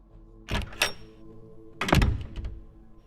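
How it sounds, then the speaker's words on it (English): A door swings open sharply with two solid thunks and a rattle, then a second heavier bang with a brief scrape, close and loud in a quiet room. "He swung the door open sharply."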